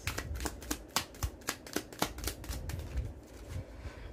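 Tarot cards shuffled by hand, a steady series of crisp riffling slaps about twice per second, close and clear with no talking.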